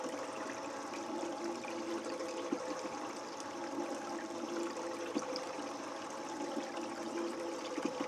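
Water flows steadily through a gold panning concentrate separator wheel, a constant close trickling rush with no pauses and no voices.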